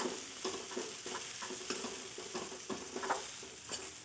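A spoon stirs a pan of val bean pod curry mixed with crushed peanuts, making repeated scraping strokes over a continuous sizzle, close and alone with no voices.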